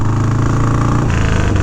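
A 1984 Harley Davidson FXRP with an Evolution motor running, loud and close: a steady, throbbing low idle with a lumpy pulse throughout and no talk.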